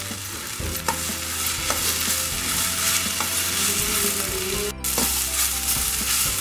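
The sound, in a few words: frying spices: cinnamon, cloves, cumin, pepper, poppy seeds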